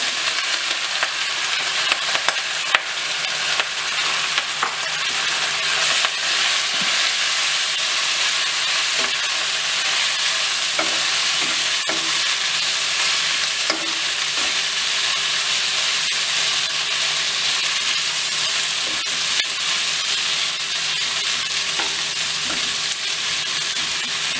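Onions frying with ginger paste in a pan for a taro root masala give a steady, loud sizzle that hisses without a break, with occasional soft stirring scrapes and no voices.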